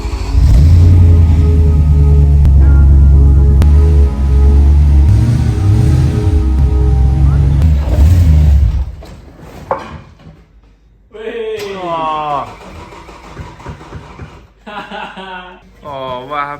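An Audi S4 engine runs loudly and steadily with some revving as the car drives onto a lift ramp, then it cuts out and people talk over the quiet that follows.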